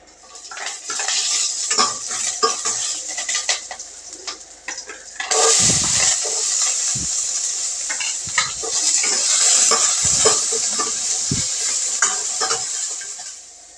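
Fenugreek, cumin, mustard seeds and lentils hit hot coconut oil for mor kuzhambu, making a loud, close sizzle that swells partway through, with a spoon scraping and clinking against the pan and no speech.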